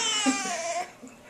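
A young child cries on cue, a wavering wailing sob lasting under a second, fairly close, then trailing into a quieter whimper.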